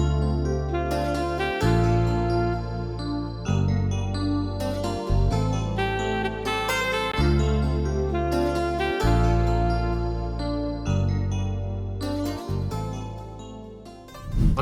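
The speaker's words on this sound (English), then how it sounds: "I've added the saxophone, and it blends quite nicely with the guitar." Saxophone and guitar play a melody together over a steady beat, a full arrangement looping continuously throughout at moderate volume with no talking.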